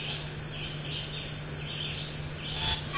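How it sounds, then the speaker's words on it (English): Recorded hermit thrush songs play back to back, faint fluting phrases that rise and fall over a steady low hum, then a louder burst near the end. "apologies to the hermit thrush itself, because you will never hear a hermit thrush do what I'm doing now, playing these 2 very similar songs back to back"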